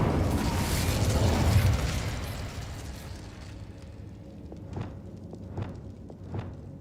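A Confringo explosive spell blast in Hogwarts Legacy: a roaring, broad burst that swells and then fades over about three seconds, followed by a few faint, sharp taps.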